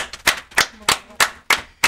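Applause from an audience of visiting FASTA students at a TV morning show, heard as about six sharp, evenly spaced bursts of clapping, fairly close and loud with no talk.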